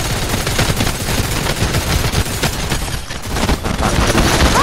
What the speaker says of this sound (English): Okay, I hear guys. You know, I'm just firing.